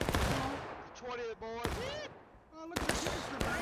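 Cannon and musket fire from a large 300-player War of Rights battle: sharp, loud gunshot bursts punctuate the scene, with tonal sweeping game sounds in between.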